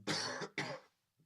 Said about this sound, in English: Sorry if I just coughed into the microphone